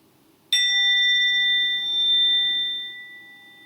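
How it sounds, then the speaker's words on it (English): A singing bowl is struck once at the start of a Sunday service, its clear ringing tone rising suddenly from near silence and sustaining for several seconds while slowly fading. "We begin our service today with the ringing of the bowl"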